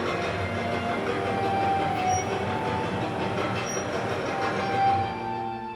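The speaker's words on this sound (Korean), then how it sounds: "승객들을 태운 기차가 기적을 울리며 빠르게 지나가는 장면을 지켜보는 것을 좋아했습니다" A passenger train passes along a railway as a story sound effect, its wheels rumbling and clattering steadily with faint squeals, moderately loud and continuous, with no voices.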